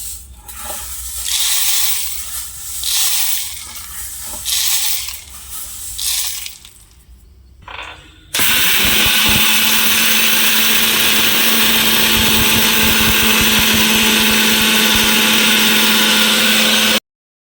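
A mixer grinder grinds spice paste for a side dish, first with a few choppy, rattling pulses and then a loud, steady whirring roar that runs on without a break until it stops abruptly, heard close up with no voices.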